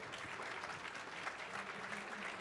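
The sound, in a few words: audience applause for the judges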